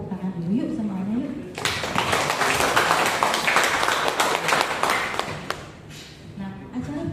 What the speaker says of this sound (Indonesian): biar semangat, kita tepuk tangan dulu yuk semuanya yuk